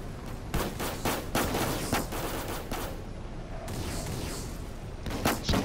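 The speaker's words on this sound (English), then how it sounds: "Pretty serious combat going on right now." Gunfire crackles in combat in the Roblox game Armored Patrol, with an armored personnel carrier and a tank in play; loud repeated bursts come in quick succession over a constant rumbling din, with no speech.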